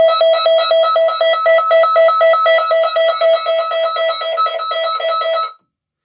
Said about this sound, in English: this is an extremely loud alarm